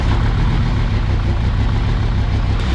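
A Jeep Grand Cherokee WJ with the 2.7 CRD diesel engine idles close by in a steady, even rumble that stays loud and unbroken from start to finish.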